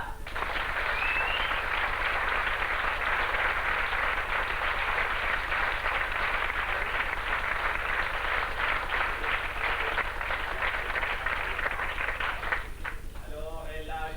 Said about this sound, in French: je vous demande d'applaudir Thierry Collard